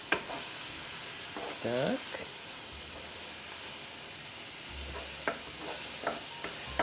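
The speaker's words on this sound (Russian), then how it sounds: "Наш фарш уже ужаривается" Minced meat sizzles quietly in a pan, a soft continuous hiss broken by a few scraping stirs, and a voice speaks a single short word.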